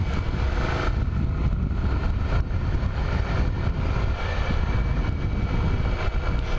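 A Ducati motorcycle cruising at about 25 mph with the visor up, wind buffeting a helmet-mounted microphone in a steady, loud, continuous roar with no talk.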